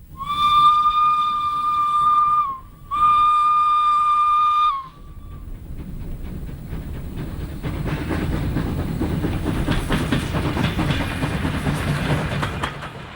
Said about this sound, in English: Many European whistles produce a shrieking and piercing sound.